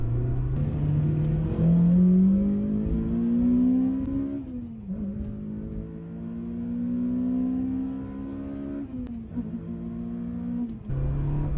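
A modified car with a JDM K20A engine, redlining at 8,800 RPM, is heard close by as its strong engine note climbs through rising revs, drops at shifts, then pulls again, with no talking.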